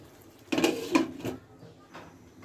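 A metal lid set onto a pot of biryani in a home kitchen: a close clatter, a second clink a moment later, then a fainter knock, with quiet room tone between.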